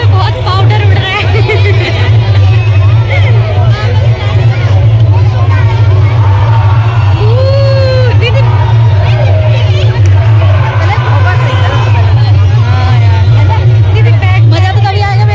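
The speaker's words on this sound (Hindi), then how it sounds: "लेकिन रास्ते में भी बहुत ज्यादा भीड़ थी।" A dense roadside crowd on the way to a Dussehra fair makes a constant loud hubbub of chatter, with traffic rumble underneath and occasional horn-like tones, steady throughout.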